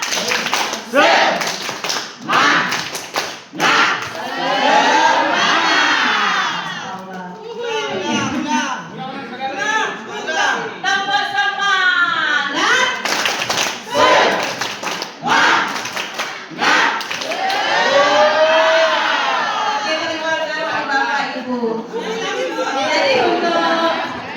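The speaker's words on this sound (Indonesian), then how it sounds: "tepuk semangat" At an Indonesian literacy community session, an audience breaks into a rhythmic spirit clap of quick, patterned hand claps and taps, close and loud, mixed with chanting voices and crowd chatter.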